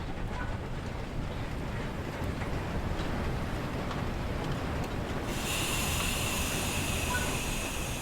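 A steam locomotive in Train Sim World 3 slows toward a halt while descending, with a steady broadband rumble and hiss throughout, and a brighter, louder release of steam hiss rising in the last few seconds.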